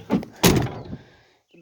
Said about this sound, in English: a little door close is good